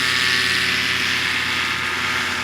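A Chipper, a Canadian single-seat ultralight aircraft with a front-mounted engine, gives off a steady, loud, continuous engine drone that holds an even level throughout, with no talking.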